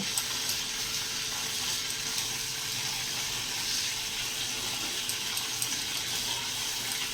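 Taro leaves are washed under a running tap, a steady close hiss and splash of flowing water that continues unbroken throughout.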